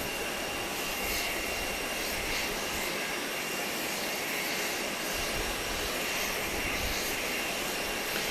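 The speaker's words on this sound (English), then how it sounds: "British Airways 777, the biggest plane they currently deal with here at this airport" A British Airways Boeing 777 jet airliner at an airport, a steady, loud, broad engine roar that holds throughout with no talk.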